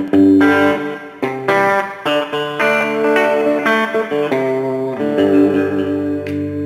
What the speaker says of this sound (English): there's a little bit of a twang on this guitar for sure in the bridge position.